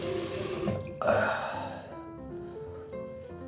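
Water runs from a tap, splashing over a face being rinsed of alum after a shave, steady and close, with a sharper gush about a second in.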